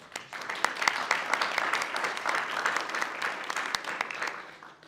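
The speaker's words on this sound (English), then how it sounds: "Let's all give them a round of applause." Applause at a United States citizenship ceremony: a moderate crowd claps with distinct individual hand claps audible in the mix, held at a medium level before tapering off near the end.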